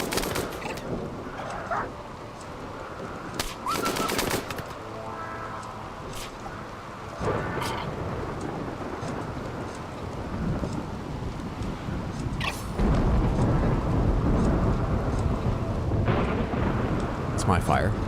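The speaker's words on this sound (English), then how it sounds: "Is the rain putting it out, or just keeping it down?" Rain and thunder during a storm in the RimWorld video game, a loud, steady rain hiss with rumbling thunder bursts and crackles, continuous throughout and swelling toward the end, with faint talk in places.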